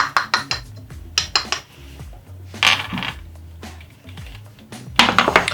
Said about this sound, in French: Je mélange la pectine X58 avec le sucre.